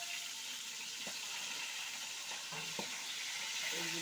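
Bhetki fish frying in a pan while being lifted out, a steady soft sizzle with a few faint clinks and scrapes of the utensil.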